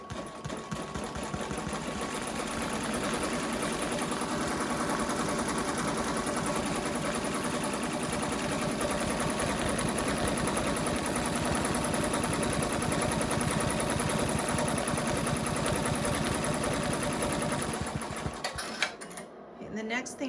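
Embroidery machine stitching a sunflower key fob, a fast, continuous, loud mechanical whirring and rapid needle clatter running steadily for most of the stretch before stopping near the end.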